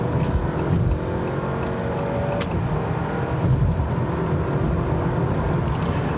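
A 2023 Honda Accord Sport Hybrid accelerating, heard from inside the cabin as a steady low engine drone mixed with road and tire noise, rising slightly over six seconds.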